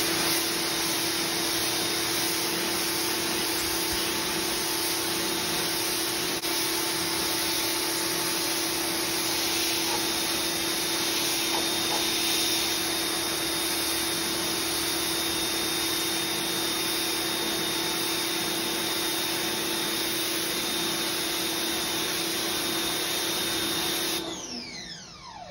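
An electric 1600 PSI pressure washer runs steadily for over twenty seconds with a constant loud motor whine and hiss of spray, close and unbroken, then cuts off abruptly at the end.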